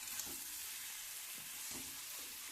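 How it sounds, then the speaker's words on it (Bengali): Chicken meat stirred and fried in a pan, with a steady broadband sizzle throughout and a few soft scraping strokes of the spatula at intervals. "বেশ ভালোভাবে প্রায় 2 মিনিট ধরে এই মাংসটাকে নাড়তে থাকবো, যাতে একটু মাংসটা ভাজা ভাজা হয়ে যায়"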